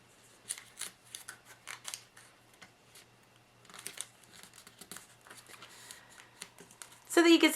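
A square of origami paper is creased and folded into an animal finger puppet, soft crinkles and sharp papery presses in close, irregular bursts, ending in a louder rustle.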